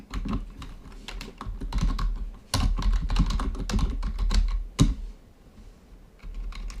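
Fingers type on a computer keyboard in quick bursts of close clicking, with a short pause, a louder keystroke, and a quieter stretch of tapping near the end.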